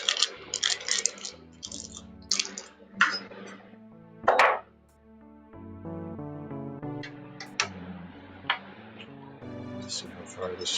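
Small metal screws clink and tick as they are handled and driven into a rolling shelf, a scattering of sharp, close taps and rattles with quieter gaps between them.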